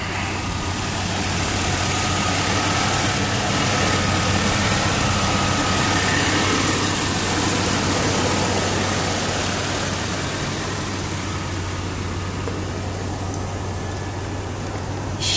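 A 1990 Chevrolet 2500 Cheyenne single-cab pickup with about 820,501 miles idles steadily at a lot auction, giving a constant low rumble with a faint whine and no break for the whole stretch.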